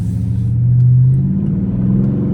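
A Dodge Scat Pack's V8 blips and revs during a downshift in track mode, a loud deep engine swell that rises, then settles into a steady low rumble, heard from inside the car.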